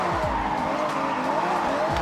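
A car drifting in Forza Horizon 6 with a chaser drift setup: a loud, continuous engine roar with rising and falling revs and sustained tire squeal, with brief pitch sweeps at the start and end.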